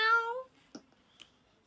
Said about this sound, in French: Il fait miaou et il ronronne.